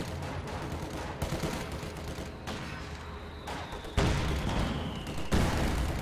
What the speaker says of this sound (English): Heavy mortars trying to put pressure on all of the stuff in this area